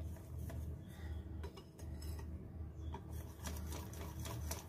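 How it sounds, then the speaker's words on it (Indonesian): Pandan pukis batter being stirred by hand in a bowl, giving a steady, busy run of soft scraping and light clinking that continues without pause, close and fairly quiet, with no voices. "Kemudian kita aduk hingga tercampur rata ya."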